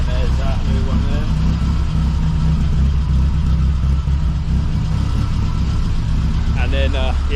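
A car with a new exhaust idles roughly and lumpily, giving a loud, continuous low rumble with uneven pulses close by and no voices.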